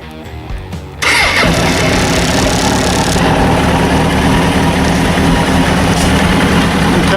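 A cold engine fitted with a 4-degree SPS ignition advancer cranks briefly and catches, then settles into a steady, loud, close idle that runs without break for several seconds.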